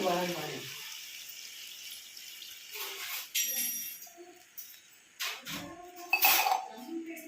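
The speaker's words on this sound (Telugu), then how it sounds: "ఇదైతే వేగింది ఇందులో వాటర్ పోసేసుకుందాం" Water splashes in short bursts into a pot of fried chicken curry gravy, with light metallic clinks of utensils between the pours in a quiet kitchen.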